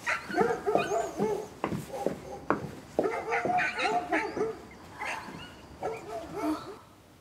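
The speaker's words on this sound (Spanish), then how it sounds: "¡No hay nadie vivo en esta casa para ver por qué están destrozándose la garganta esos malditos perros!" Several dogs bark loudly and repeatedly in irregular bursts, with some yips and whimpers mixed in, at close range and sounding agitated, alongside a little background voice.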